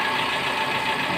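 A Suzuki car engine idles at a steady, smooth hum with a constant low rumble, close and unbroken, with no voices over it.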